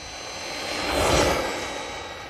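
A Traxxas Mini Maxx RC truck at full throttle makes a steady, high electric whine that swells as it passes close and then fades, with no talking.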